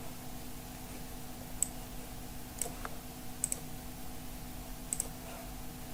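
A computer mouse clicking a few times at irregular intervals, small crisp ticks over a steady background hum from a computer, faint and close with no speech.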